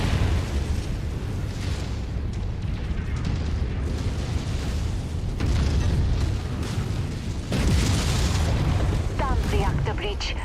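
Mech reactor breach explosion in MechWarrior 5 combat, heavy booms and rumbling blasts layered over continuous battle noise and weapon fire, loud and close, with voice radio chatter mixed in.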